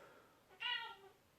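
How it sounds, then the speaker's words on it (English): A pet cat named Pepper lets out a single whiny meow, clear and close but fairly quiet, in an otherwise calm room with no talking. "My whiny little baby kitty."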